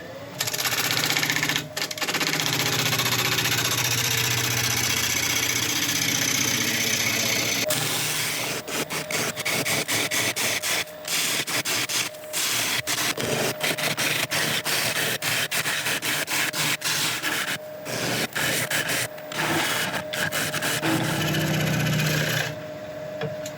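Wood turning on a lathe, a gouge flattening the face and hollowing a part-turned bowl: a steady close whirr with a change partway through to dense, rapid scraping and chattering cuts that continue to the end.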